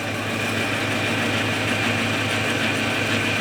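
A tractor engine runs just above idle while driving a homemade generator, a steady, continuous low drone with a constant hum and no talking.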